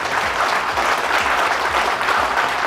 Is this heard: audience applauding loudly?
yes